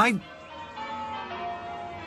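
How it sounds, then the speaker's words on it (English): Church bells of St. Uhtred's ring out in a steady, resonant peal, with sustained overlapping tones hanging in the air at moderate loudness. "What are they ringing the bells for?"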